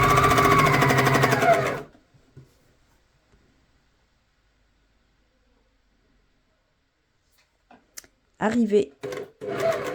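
A domestic sewing machine stitches rapidly into a shirt corner in a short close burst, then stops; after a silent pause a voice speaks briefly.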